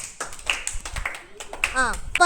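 Children clap their hands in a classroom sorting-by-size maths activity, giving a short burst of claps close by, mixed with an adult voice talking.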